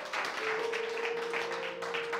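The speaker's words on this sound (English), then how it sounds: "One more hand clap of praise." A church congregation gives a hand clap of praise after a Sunday sermon, soft, steady applause from across the sanctuary, with a sustained organ or keyboard tone holding underneath.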